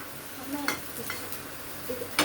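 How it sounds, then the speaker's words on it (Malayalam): Bitter gourd fries in a pan with a faint, steady sizzle, broken by a few sharp clinks of a utensil against the pan from close by. "ഇപ്പൊ ഈ സൈഡിൽ നിന്ന് വറക്കണ"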